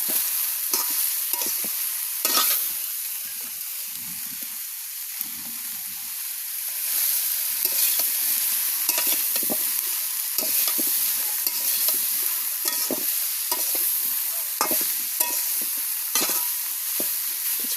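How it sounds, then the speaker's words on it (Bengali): Water lily stems with turmeric and salt fry in a pan on a clay stove with steady sizzling while a utensil scrapes and stirs repeatedly throughout. "কিছুক্ষণ পর পর উল্টে পাল্টে নেড়ে দিব যাতে নিচে লেগে না যায়"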